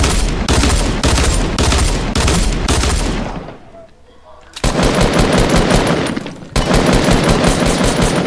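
Rapid automatic gunfire in the Fortnite video game, loud, dense bursts that pause briefly before erupting again, with players talking over it.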